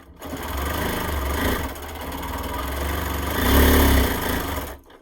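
A sewing machine free-motion quilting an alligator design whirs steadily and close, its motor speeding up for a louder burst near the end before stopping.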